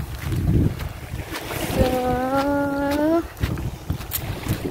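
Sea beside Lawas Seaside Resort, with a steady wash of waves and gusty wind buffeting the microphone, while a voice speaks briefly over it.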